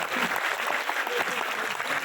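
Audience applause in a seminar hall, a steady wash of clapping hands that holds evenly for about two seconds, moderately loud with no gaps.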